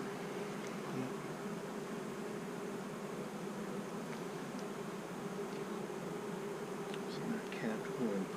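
Honey bees hum continuously during a late-year beehive inspection, a thick even buzz from many bees close to the hive, with occasional faint clicks and no clear talk.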